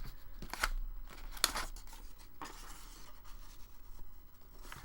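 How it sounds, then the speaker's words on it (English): Scissors cutting paper for a spring bunny folio craft, a few crisp close snips spread over a quiet room, the sharpest cuts near the start. "Let's cut a piece of this one."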